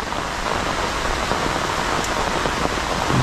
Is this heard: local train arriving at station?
no